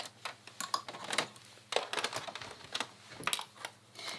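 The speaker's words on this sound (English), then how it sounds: "I'm gonna go ahead and sew my zipper on." Home sewing machine running a long basting stitch to attach a zipper on a zip-up hoodie, heard as quick uneven runs of clicking and ticking with short pauses between stitching bursts.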